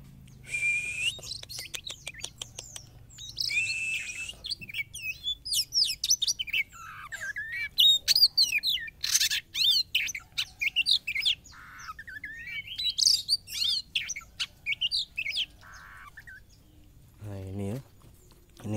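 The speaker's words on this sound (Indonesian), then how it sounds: "ini burung kacer biar dia selesai makan dulu" An Oriental magpie-robin (kacer) kept at home and still eating sings in varied, bright chirps and whistles close by, with rapid repeated notes and short squawks over about eighteen seconds.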